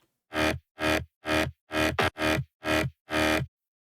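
Seven loud, gritty synth stabs in an even rhythm, each heavily distorted through a guitar amp, with silence between bursts.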